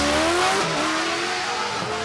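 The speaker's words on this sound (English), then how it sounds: "I just go quiet when it goes off the start line because it is a wonderful, wonderful sound." A Ford Dakar rally car launches hard off the start line on a forest rally stage, its engine roaring loud and close with a rising, then falling pitch as it pulls away.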